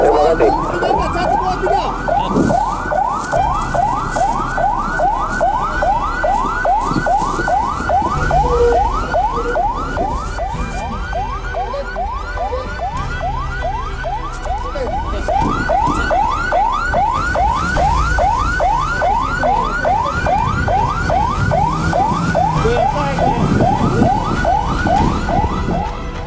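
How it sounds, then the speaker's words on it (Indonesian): Ambulance siren wailing continuously in a steady rapid up-and-down sweep, loud and close throughout, during an emergency business contingency drill, with faint background noise underneath. "Ambulans sudah ditarik."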